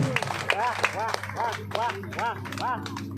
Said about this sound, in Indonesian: Tepuk tangan yang paling meriah buat Tuhan Yesus yang dahsyat dan luar biasa itu.